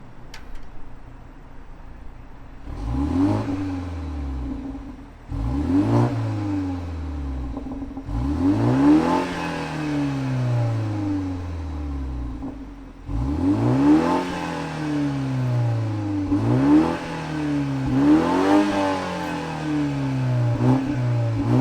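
A 2021 BMW 430i coupe with a ZF 8-speed idles close by, then its engine is revved hard again and again, each sharp rise in pitch falling back to idle, loud and with no talking.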